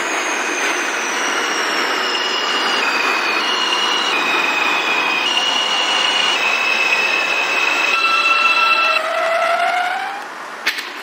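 An Alstom R160A-1 subway train on a C local run, from the OpenBVE train simulator game, gives a steady loud rumble. Its traction motor whines in stepped tones that glide up and down, with no voices.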